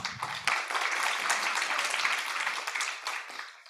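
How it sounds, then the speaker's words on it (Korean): Audience applause at a Korean Christian school's multilingual education info session, steady broadband clapping from a crowd lasting several seconds, with faint voices mixed in. "네, 박수로."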